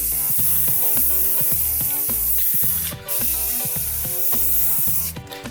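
Aerosol spray coats an iPod in a steady, loud, close hiss that runs almost continuously, briefly stopping twice, with rhythmic background music playing underneath.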